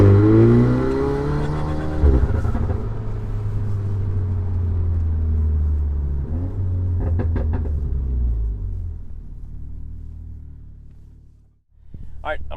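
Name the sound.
Golf R AWE SwitchPath exhaust, valves open, hard takeoff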